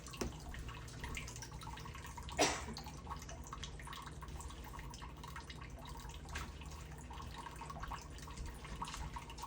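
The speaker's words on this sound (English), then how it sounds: "And I'm sure you all hear the running water in the background." Faint, steady trickle of a running cat water fountain in a quiet room, with soft drips and one brief louder splash.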